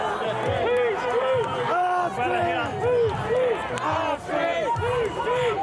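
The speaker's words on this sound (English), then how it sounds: "Everyone's screaming, yelling" Protest crowd at an anti-migrant rally in London, many voices screaming and yelling together in a dense, continuous roar close by, with someone speaking briefly over the din.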